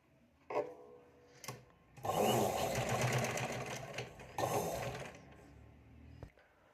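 A sewing machine stitches a folded strip of fabric down with a finishing topstitch, running in two bursts of steady whirring with short taps and handling noises between them, close by and fairly quiet.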